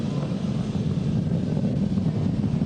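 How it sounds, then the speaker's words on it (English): Falcon 9 rocket engines throttling up to full power during launch, a steady dense low roar with no breaks, loud and continuous. "M1D throttle up. We're throttling back up to full power as we're through max Q."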